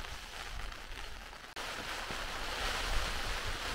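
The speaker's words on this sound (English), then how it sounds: "I'm just going to wait out the rain, which is just starting now" Heavy rain falling outdoors on Dartmoor, a dense steady hiss of drops, with a brief break before it resumes even stronger.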